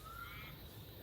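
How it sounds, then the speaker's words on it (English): A crow cawing near a front door outdoors, a harsh call carrying through the brief moment over low background rumble, fairly faint and unaccompanied by talk. "as soon as that bird sees me, it starts going off"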